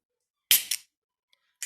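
A sharp pressurized hiss and pop as a can of ginger beer is cracked open, followed by a brief second fizz, then near silence with a faint tap.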